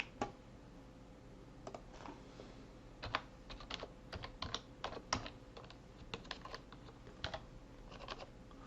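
Typing on a computer keyboard while entering a Python turtle graphics command, a quiet, uneven run of soft key clicks with brief pauses, close and alone with no talk.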